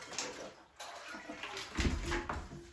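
Water runs and splashes softly after a toilet is lifted off its bolts during floor prep, with scattered knocks and scrapes close by and a slightly louder gurgling patch near the end.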